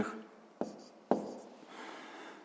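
A pen writes numbers on paper during a sixth-grade math exercise, giving a few faint, close scratchy strokes with two sharper taps and quiet pauses between them.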